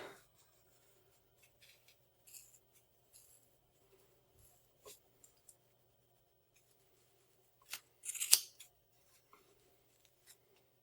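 Scissors snip through thick yarn for a pom-pom, layer by layer: a few faint, sparse cuts, then a louder cluster of snips near the end, heard alone in a quiet room.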